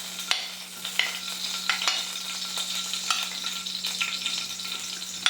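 Chopped green chilli frying in about two spoons of oil in a pan, a steady close hiss with scattered sharp crackles and pops throughout, no voices.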